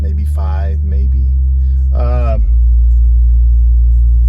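Four 12-inch Pyle subwoofers thump out loud, deep sustained bass inside a car, a heavy low rumble filling the cabin from start to finish while someone talks briefly over it.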